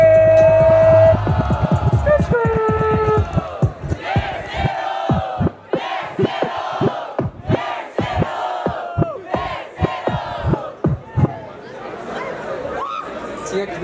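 A crowd at a Brazilian street rap battle roars and shouts together, loud chants and cheers rising in bursts over an MC's amplified voice.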